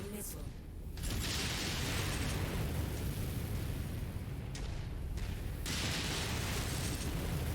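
A tower block blowing apart in a video game, heard as a deep, sustained rumbling explosion that swells after the first second and keeps roaring with crumbling noise for several seconds.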